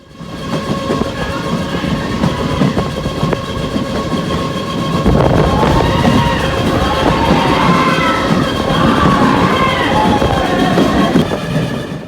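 A passenger train on the Sengottai–Punalur line rumbles loud and close, the roar swelling as it enters a tunnel while young passengers hoot and whoop over the rolling clatter in the rainy monsoon.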